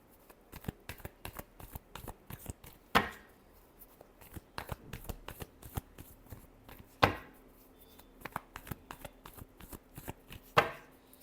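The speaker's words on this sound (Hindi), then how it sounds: "Last shuffle." Tarot cards are shuffled by hand: a steady patter of soft card flicks and taps, broken by three sharper riffling bursts spaced a few seconds apart, close and fairly quiet with no voices.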